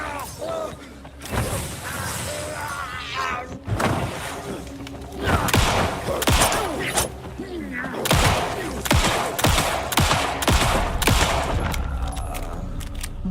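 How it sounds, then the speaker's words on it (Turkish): Gunfire in the survival horror game Alan Wake 2 on Xbox Series X, repeated loud shots and heavy impacts scattered throughout, mixed with thuds and shattering, while a voice talks at times. "Silah sesine."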